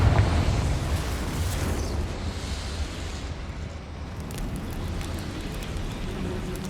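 A Confringo fire spell explosion in Hogwarts Legacy, a burst at the start that settles into a long roaring, crackling rumble of fire and debris, steady and fairly loud throughout.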